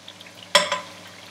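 A spoonful of mashed garlic drops into hot oil in a pot, setting off a sudden close sizzle that flares and then fades into a gentle hiss.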